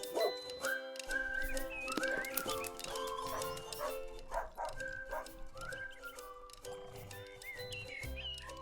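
A dog barks and yips at an outdoor dog park, with chirping birds and a steady musical bed filling the background throughout.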